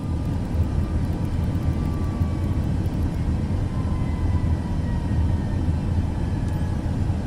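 A steady, loud airliner engine drone fills a simulated landing approach in Microsoft Flight Simulator, a dense continuous rumble with no break and no voices.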